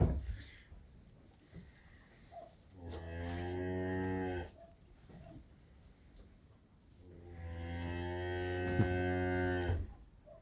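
Cows kept indoors in a cowshed give two long, loud, droning moos several seconds apart, with quiet shuffling between and no voices.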